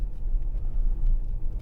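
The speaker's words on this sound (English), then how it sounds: "there's a little bit of tyre noise." Low, steady road rumble of tyres on tarmac, heard from inside a 2010 Audi Q7 3.0 TDI S line Tiptronic fitted with 21-inch tyres, a constant moderate drone with no speech.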